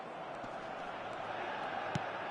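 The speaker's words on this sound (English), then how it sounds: "The stadium is full of noise and energy." Steady stadium crowd roar in the eFootball video game, a dense, continuous wash of distant voices at an even level with no single standout shout.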